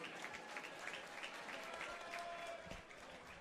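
Crowd applause for both fighters at a professional boxing night in a Hilton hotel ballroom, steady dense clapping that carries through the whole stretch at moderate distance.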